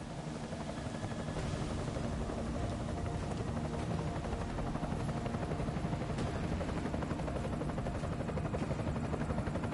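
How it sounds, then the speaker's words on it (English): Helicopter in the video game Deus Ex: Mankind Divided, a continuous loud rotor thrum and engine roar filling the scene without pause, with no talk over it. "Enemy helo sighted."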